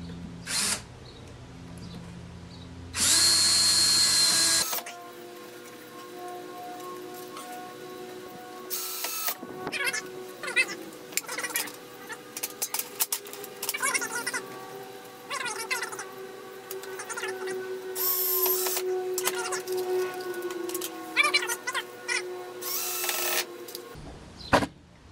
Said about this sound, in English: Screwing into that now.